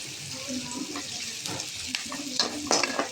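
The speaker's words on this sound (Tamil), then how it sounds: "கொஞ்சம் எண்ணெயை ஊற்றி அதில் பெரிய வெங்காயத்தை போட்டு கொஞ்சம் நல்லா வதக்கி விட்டுருவோம்." Large onions sautéing in oil in a pan for a chicken kulambu, with a steady soft sizzle, occasional stirring scrapes and brief splashy water-like sounds, continuous and close.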